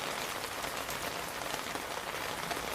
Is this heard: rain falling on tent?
yes